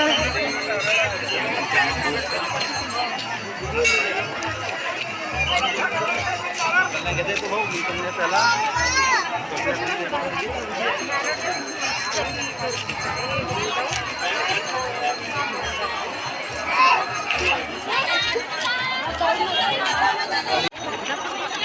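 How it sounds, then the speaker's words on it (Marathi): A dense crowd chatters and murmurs steadily at a busy temple entrance, with many overlapping voices, shuffling and occasional clatter throughout. "मंदिरामध्ये जायसाठी तर खूप गर्दी आहे रे बाबा"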